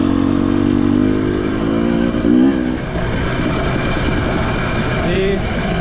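A 2018 Husqvarna 250 TPI two-stroke enduro motorcycle runs close by, its engine droning loudly and steadily with a brief rise in revs around the middle, continuing throughout.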